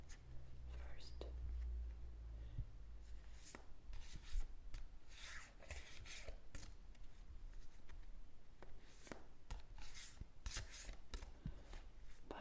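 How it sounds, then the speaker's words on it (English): A new tarot card deck being shuffled in a quiet room, soft close-up rustling and riffling cards with brief taps, faint and intimate, with occasional whispered speech. "Let me do a little bit of shuffling"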